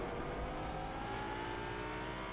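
Video game race cars at the Bahrain Grand Prix, a steady loud engine drone with high whining tones, continuous and unbroken throughout.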